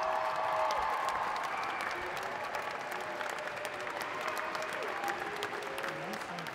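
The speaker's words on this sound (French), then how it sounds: "Les adultes applaudissent et quittent la scène." A crowd applauds steadily, dense clapping from many hands that holds at an even level throughout, with faint voices mixed in.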